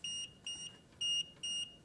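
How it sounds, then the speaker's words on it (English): A Plumb Guard unit sounds its fault alarm: four sharp, steady electronic beeps in an even on-off rhythm, close and fairly loud, alone in a quiet room. "The alarm will go off."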